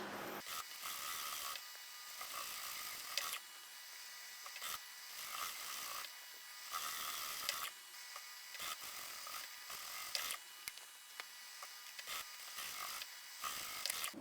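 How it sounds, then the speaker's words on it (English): Sewing machine stitching the corners of a lined tote bag, a quiet, near whirring drone that starts and stops in several short runs, no voices. "we can take these to the machine and sew those closed"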